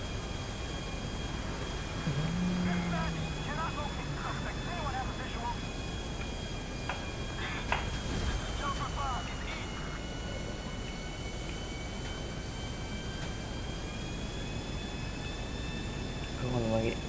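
A large airplane in the video game GTA 5 gives a steady droning engine hum through the whole stretch, a few whining tones riding on top, while someone talks over it.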